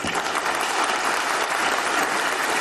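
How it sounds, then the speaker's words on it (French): Audience applause fills an awards ceremony hall, a steady, dense clapping from a large crowd heard close and loud throughout, with no voices over it. "Je vous prie d'applaudir pour vous-même."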